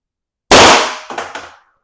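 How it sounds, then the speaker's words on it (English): A single loud, sharp report from a less-lethal gun firing an 8.8-gram Gladiator round, close by, with a quick decaying tail and a couple of short metallic echoes after it. "Fourth shot."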